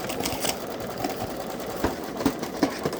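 A Babylock Solaris embroidery machine stitches a design in the hoop, giving a quiet, rapid mechanical whirr with soft rhythmic clicks that grow more distinct toward the end.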